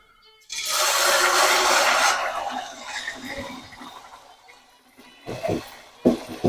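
Battered pappadam fritters dropped into hot frying oil burst into a loud hissing sizzle that fades over a couple of seconds, followed by faint bubbling and a few brief knocks near the end.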